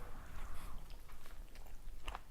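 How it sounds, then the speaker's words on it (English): Someone bites and chews a jajangmyeon burrito packed with crunchy raw cucumber, producing soft, close, faint crunching and moist chewing noises in a quiet room. "The cucumber really gives it a crunch. I didn't cook the cucumber, so it's very crunchy still."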